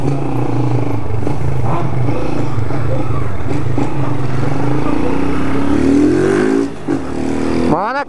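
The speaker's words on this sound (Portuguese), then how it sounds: "dá até medo, velho, de puxar essa moto aqui" A light Honda Hornet motorcycle engine revs hard and loud up close, a sustained rising roar with rattling mechanical clatter before cutting down at the end.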